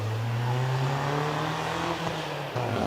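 A BMW 318i rally car powers along a night hillclimb course, its engine holding a loud sustained drone that dips briefly as the driver lifts and shifts before pulling hard again.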